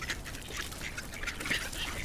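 Ducks on ice, quacking in a few short, fairly faint calls spread across a couple of seconds over a soft outdoor background.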